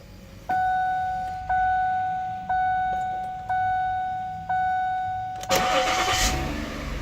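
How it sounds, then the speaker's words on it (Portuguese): A Ford Edge's engine turns over and starts after five evenly spaced warning chimes, the engine catching near the end with a sudden loud burst of noise. "O motor está funcionando muito bem. Vou até ligar para vocês verem."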